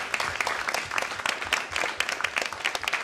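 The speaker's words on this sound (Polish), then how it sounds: "wielkie brawa dla tego zespołu, bo robią fantastyczną robotę" An audience applauds the organizing team at the Carbon Footprint Summit 2023 keynote, a steady patter of many hands clapping throughout, fairly loud and continuous with a few brighter individual claps.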